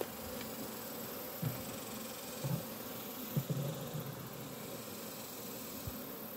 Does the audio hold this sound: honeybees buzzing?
yes